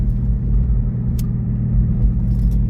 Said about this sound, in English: My car's a little noisy.